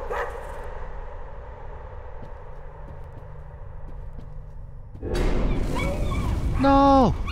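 Whimpering and yipping from a dog in the horror game Layers of Fear, starting after a quiet droning stretch, with rising whines near the end that swell louder and closer.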